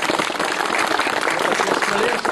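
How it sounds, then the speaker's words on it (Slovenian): Applause from an outdoor crowd at the unveiling ceremony of a statue, a steady dense clapping filling the short stretch, with faint voices mixed underneath. "En aplavz."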